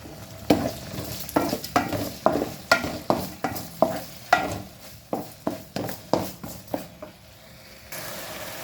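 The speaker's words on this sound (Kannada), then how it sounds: "ಸ್ವಲ್ಪ ಹಿಂಗನ್ನು ನೀರು ಮಾಡಿ ಇಟ್ಕೊಂಡಿದ್ದೇನೆ ಹಿಂಗು ಪೌಡ್ರಲ್ಲ ಇದು ಗಟ್ಟಿ ಹಿಂಗನ್ನು ನೀರು ಮಾಡಿದ್ದೇನೆ ಇದನ್ನು ಒಗ್ಗರಣೆಗೆ ಹಾಕ್ಕೊಳ್ತೇನೆ" Water with dissolved solid asafoetida added to a hot sizzling tempering, followed by a quick run of about fifteen rhythmic spoon strokes against the pan over a crackling fry, fading near the end.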